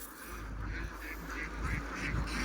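Ducks raised for balut and salted eggs quack in a cluster of short repeated calls, moderately close over a steady low background hum, with no one speaking.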